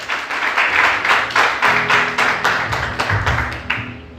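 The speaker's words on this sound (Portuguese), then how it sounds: "Vamos aplaudir Jesus bem forte." A church congregation claps in unison, a steady rhythmic beat of many hands at close range, each clap a sharp broadband burst repeating about twice a second, with a low musical hum sustained underneath.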